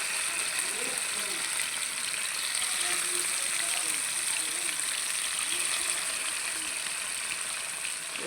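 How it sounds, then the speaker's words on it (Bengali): Fish frying in hot oil in a home kitchen while cooking a Sylheti fish curry with satkora citrus, a steady loud crackling sizzle filling the whole stretch with faint scattered clatter beneath. "তেলটা গরম হয়ে গেলে মাছ ভাজি করে দেবো"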